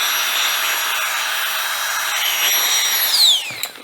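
A FlexTailGear Tiny Air Pump runs loud and close, a continuous high whirring blow that holds steady while inflating, then the pitch sweeps and the motor winds down near the end.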